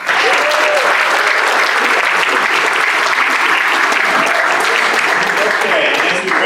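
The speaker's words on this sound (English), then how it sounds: "One more round of applause for everyone." An audience at a Rotary scholars and Interact/Rotaract clubs celebration applauds loudly and continuously, a dense wash of clapping filling the whole stretch without a break.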